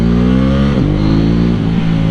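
Engine of a 2018 KTM 790 Duke motorcycle revving close up, a steady loud harmonic drone with two quick throttle blips that dip and rise the pitch.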